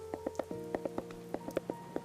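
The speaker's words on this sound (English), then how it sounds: "in here it rains a lot" Rain falls in the video game WHIWA, soft drops tapping irregularly on surfaces, faint and close, over a low sustained tonal ambient drone with a few brighter plinks.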